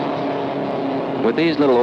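A Lotus open-wheel race car runs in a tight pack on a road course. Engines drone steadily, then a closer car sweeps past with a rising whine, loud under a voice speaking.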